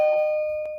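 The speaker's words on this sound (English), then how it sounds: "Doorbell" A two-tone doorbell chime rings once, clear and sustained, its tone held steady and fading slowly over a quiet room.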